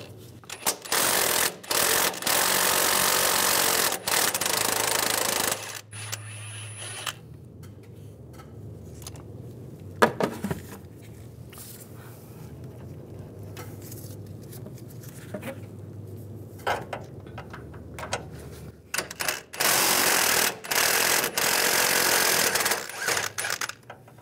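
Strut nuts on a 2007-2013 Chevrolet Silverado 1500 front shock mount come off with an 18 millimeter socket, in loud bursts of rapid rattling tool noise separated by quieter pauses with clinks of metal.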